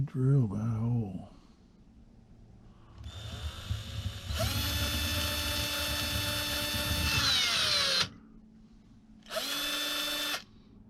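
A power drill whirs up drilling a hole in wood on a wooden model ship, runs steadily for several seconds, stops, then gives a short second burst, with a brief voice at the start.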